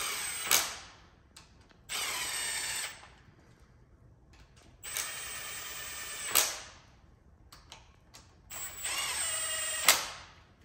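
A power tool runs down bolts on an LQ4 LS engine oil pan in four separate bursts, each a sharp whirring ratchet spin that stops abruptly, with quiet gaps and small clicks between.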